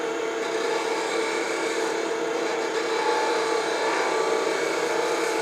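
A wooden box blank spins on a lathe while a gouge rounds over its edge, producing a steady, continuous scraping whir of tool against wood at close range with no talking.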